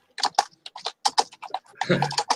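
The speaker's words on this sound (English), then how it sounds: "you hear her in the background like she's typing" Someone types on a computer keyboard in the background during a podcast recording, giving a quick, irregular run of light, sharp clicks with short pauses and no talking over it.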